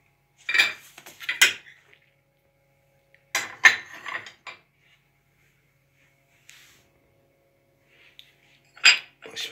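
Dishes and cups clatter and clink in bursts as someone rummages through them looking for a plate and cups for Turkish coffee, with quiet gaps between the handling.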